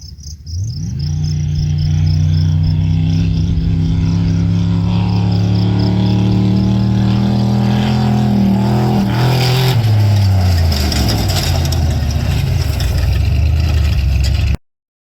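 An LS-engined car with a TCI Turbo 400 automatic transmission accelerates, its loud engine note climbing steadily in pitch, dipping at a gear change, then pulling on before stopping abruptly.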